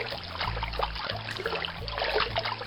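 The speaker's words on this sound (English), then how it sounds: "they go for a swim with some horrible water splashing sound effects" Cheap, low-quality water splashing effects from the film Jurassic Shark, a continuous swishing and trickling wash at close range with repeating low rumbles beneath, no voices.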